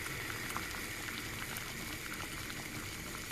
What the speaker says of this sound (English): We've got a raging, rolling boil.